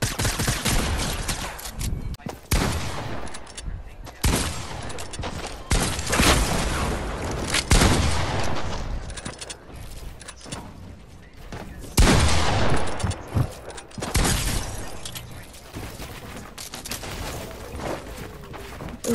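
Rapid gunfire in an online multiplayer shooter game, dense bursts of shots cracking repeatedly in quick succession across the whole stretch, loud and close, with occasional brief voices from players.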